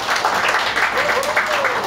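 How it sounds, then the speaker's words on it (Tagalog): A church congregation breaks into loud, sustained applause, a dense wash of clapping with voices mixed in underneath. "Pinakakusog na palakpak para sa Ginoo."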